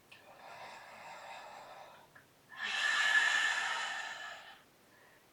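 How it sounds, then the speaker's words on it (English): A person takes slow, deep breaths during a yoga flow: a soft, drawn-out inhale followed by a longer, louder, breathy exhale, close and quiet, with no talking. "One more deep breath."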